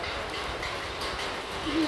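A steady rumbling rush of a moving train, broad and continuous, with a low rattling undertone throughout.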